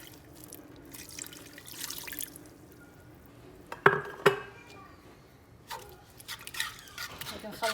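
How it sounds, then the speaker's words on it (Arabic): Water is poured into a meat couscous mixture with a spoonful of smen, heard as brief splashes and drips with a sharp pot clatter midway, close by, with a voice speaking around it. "نديرو واحد شويه ديال الماء"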